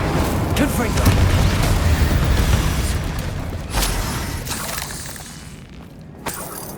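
Incendio and Confringo fire spells explode in the Hogwarts Legacy video game, a loud, rumbling burst that fades with further sharp impacts, heard under a speaking voice.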